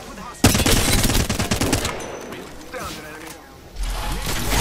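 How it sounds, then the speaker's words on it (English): A Flatline rifle fires rapidly in Apex Legends, a dense burst of loud close shots followed by more scattered gunfire and a resumed burst, with voices talking over the action. "how fast you shoot that thing actually disgusts me"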